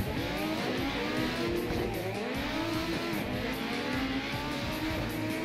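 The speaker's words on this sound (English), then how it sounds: "we're getting ready to go as the pace car is rolling off right now" Legends race cars roll behind the pace car at Thompson Speedway, their engines droning together in a steady, loud, continuous pack with shifting revs and no talk.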